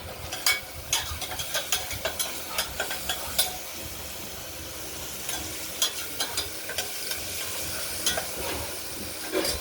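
Masoor dal with salt, turmeric and sugar sautés in a pan and is stirred, with a bubbling sizzle under frequent clattering spatula scrapes in an uneven rhythm, nearby.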